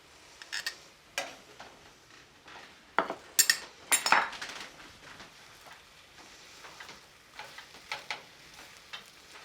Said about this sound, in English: the eggs and the matzah, and I'm gonna stir everything together